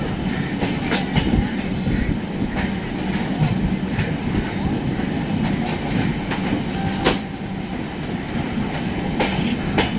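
An express train rolls along the rails near Kolkata, India, with a continuous rumble and rhythmic clacking of wheels, occasional metallic squeals rising above the steady roar.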